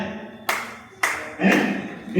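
A person demonstrates hand clapping during a talk at a girls' college. Three or four separate sharp claps ring out at uneven intervals.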